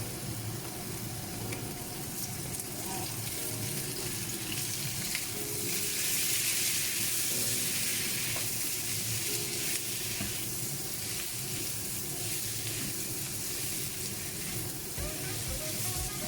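Tandoori chicken sizzles steadily in oil in a pan over low heat, a dense, continuous crackling hiss that carries throughout at close range.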